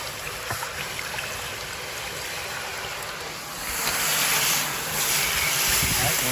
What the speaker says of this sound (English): I'm going to wash this inside out. So all that debris will go out the pipe.